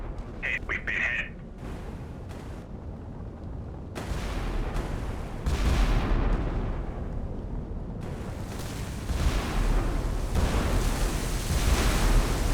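Enemy fire strikes a warship in Sea Power, landing as repeated loud booming explosions and rumbling impacts spread across a dense, noisy battle soundscape.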